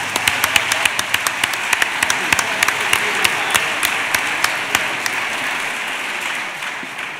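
A carnival proclamation crowd in Bornos applauds steadily, with sharp individual claps standing out from the dense wash of clapping, fading gradually toward the end.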